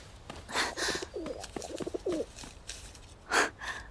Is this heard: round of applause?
no